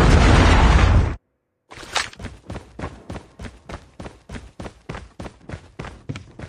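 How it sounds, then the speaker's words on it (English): Predator missile explosion in the video game Call of Duty: a loud roaring blast lasting about a second, then abrupt silence, followed by a steady series of rhythmic thuds. "Predator missile inbound."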